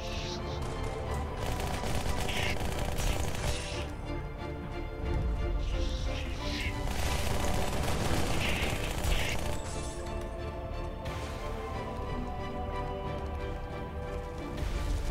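Dense, continuous SMG gunfire from dual submachine guns in the video game Spartan Strike, sustained bursts running almost the whole stretch amid game sound effects and music.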